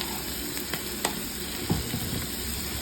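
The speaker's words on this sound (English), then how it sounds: "Onions and shrooms. And butter. Let's throw in a little bit of salt." Onions and mushrooms frying in butter in a pan, a steady soft sizzle with a few light clicks of stirring, close and fairly quiet, no voices.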